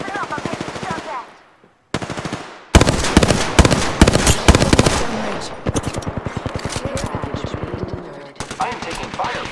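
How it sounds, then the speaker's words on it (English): Dense automatic gunfire from the Apex Legends battle royale game, long rapid bursts of loud close shots with short gaps and a brief silence near the start, intermittent voice chatter mixed in. "I am taking fire, friends."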